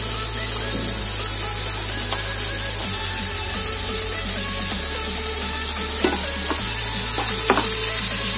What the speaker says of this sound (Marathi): आता आपण हे गुलाबीसर होईपर्यंत परतून घ्यायचं आहे